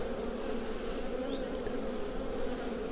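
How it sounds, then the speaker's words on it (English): Honey bees buzzing steadily around an open hive during a summer inspection, a dense continuous hum close by with no voices. "Got some bees on the end of my hive tool."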